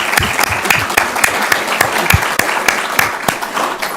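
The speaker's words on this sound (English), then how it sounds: "please give yourselves a nice round of applause" An audience at a school district citation ceremony applauds, a loud, close round of clapping with sharp individual claps standing out over the dense crowd sound.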